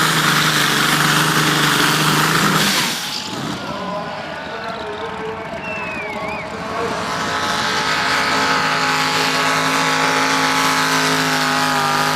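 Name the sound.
tractor pulling engines running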